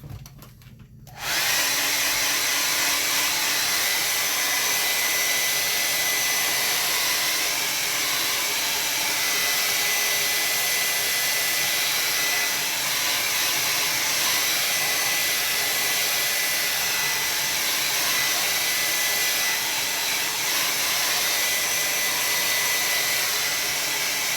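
A hair dryer blows steadily on a watercolor landscape painting to dry it, a loud, even whoosh that starts after a brief quiet moment and runs without pause.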